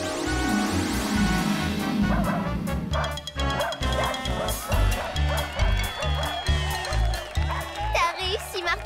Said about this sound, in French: Voici Culbuto et son chien qui chantent.